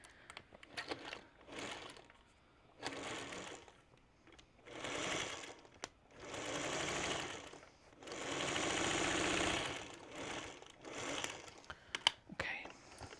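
A domestic sewing machine runs in several bursts while stitching the side seam of a sewn bag, short runs of a few seconds broken by pauses and small handling clicks, close and moderately loud with no talk.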